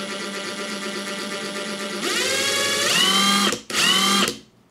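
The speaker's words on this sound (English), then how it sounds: "So let's go to mode one, variable speed here" A Ridgid 18V brushless cordless 1/2 in. impact wrench runs in variable speed mode one, its motor whining steadily, then revving higher in two close, loud bursts separated by a brief release of the trigger before winding down.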